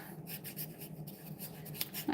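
Writing on paper makes quiet, close scratchy strokes in a quick, uneven rhythm, with no voices.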